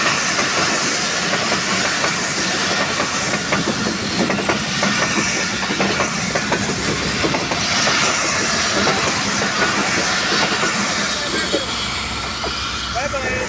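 An express train in Pakistan with a Green Line business class coach rushes past close by, a loud steady roar with clattering wheels and hiss lasting throughout.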